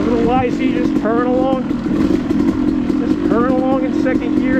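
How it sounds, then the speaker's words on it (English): A Yamaha YZ250 dirt bike purrs along a wet, rocky trail at Brown Mountain OHV, its engine a close, steady drone. A rider talks over it in short bursts. "YZ just purring"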